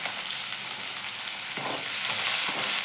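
Curry leaves and onion sizzle and crackle in hot oil in a pan, a steady broadband frying hiss with sharper pops and a brief stir near the middle, close and fairly loud, no voices.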